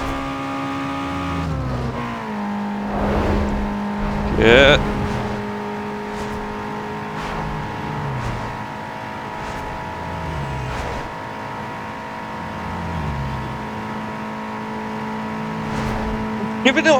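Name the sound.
race car engine revving in a drag race, Need for Speed Underground 2 video game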